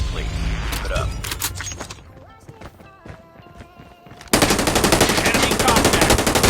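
A machine gun fires in a military shooter video game, with scattered shots and mechanical clatter early on and then a loud, sustained rapid burst in the final two seconds. Game voices and effects sound around it.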